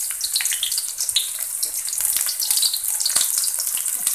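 Shallots and garlic sizzle in a hot oiled pan for nasi liwet, a bright continuous crackle with scattered sharp pops, close and loud, without talk.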